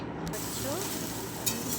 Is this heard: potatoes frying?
yes